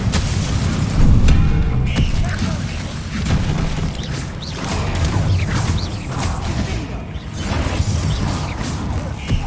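Bombarda blasting spells in Hogwarts Legacy during a dense fight: continuous loud magical bursts, crashes and impacts with scattered pops.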